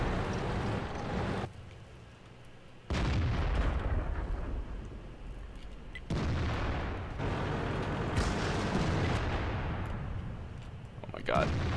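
Tank guns fire in the World of Tanks video game, heavy booming shots that open sudden loud stretches of rumble, each blast followed by a long roaring tail, with a voice talking at times.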